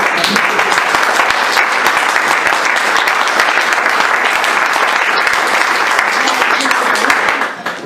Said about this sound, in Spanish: Juan Antonio quería un aplauso